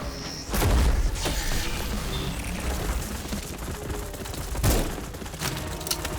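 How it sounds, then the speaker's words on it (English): Video game gunfire rattles in close, heavy bursts, with booming impacts at the start and again midway over a continuous dense clatter of shots. "I'll keep shooting."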